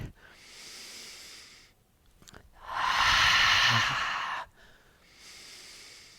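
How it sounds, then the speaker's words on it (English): Yoga breathing through the nose with the breath dragged across the throat, a soft hissing inhale followed by a longer, louder rushing exhale and another quieter breath, close and alone. "find that same gentle sound breathing through the nose but dragging the breath across the throat"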